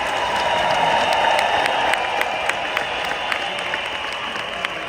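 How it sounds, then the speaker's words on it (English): Applause from a crowd fills the room, steady and dense, gradually thinning with a few sharper claps near the end. "So let's give the Home Office a round of applause. Let's make some noise."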